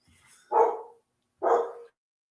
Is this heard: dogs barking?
yes